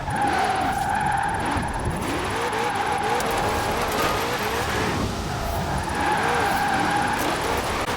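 A 2020 Shelby GT500 driven in the racing game Forza Horizon 4, its engine roaring loudly and continuously with rising and falling revs and tyre noise through corners.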